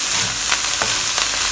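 Chicken and salted fish fried rice with spring onions stir-fried in a wok over the flame, giving a loud, steady close sizzle with a few quick scraping tosses, no voices.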